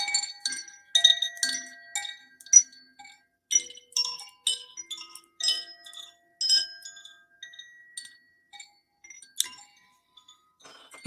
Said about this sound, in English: There's two more sound healing instruments that I have. One is this beautiful chimes.